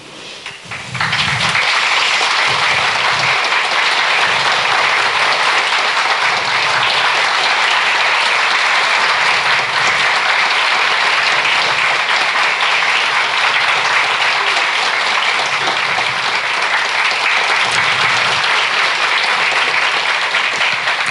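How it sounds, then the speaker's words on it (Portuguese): A concert audience breaks into loud, sustained applause welcoming the performer, dense clapping that swells after a brief opening and holds steady for about twenty seconds. "Vamos recebê-la com uma salva de palmas."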